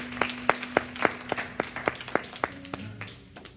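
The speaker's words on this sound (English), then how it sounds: "Come on, clap your hands if she comes." A church congregation clapping their hands in a slow, even beat, about a dozen sharp claps at moderate volume, with a sustained organ-like tone underneath and no speech.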